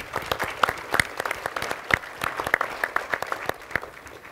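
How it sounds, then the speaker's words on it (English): Audience applause at an agricultural innovation conference, a smaller gathering clapping with distinct individual claps standing out in an uneven, moderately loud patter. "I think we ought to give everyone applause"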